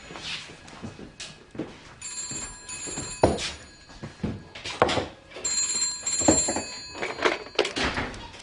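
An old-style bell telephone at a village pub rings with an incoming call, two long trilling bursts separated by a pause, heard indoors over thumps, movement and a little background chatter.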